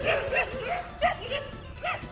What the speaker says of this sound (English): we got an infinite number of dogs making a noise while I'm trying to make a video